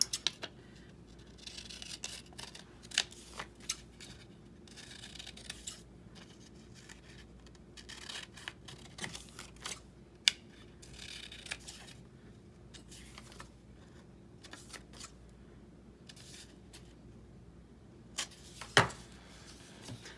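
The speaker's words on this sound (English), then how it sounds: "Now, we just want to cut this down a little bit." Scissors snip leftover 12x12 patterned paper cut-offs for craft pockets, giving quiet, scattered cuts and light paper rustles with a soft sharper snip near the end, close by and without talk.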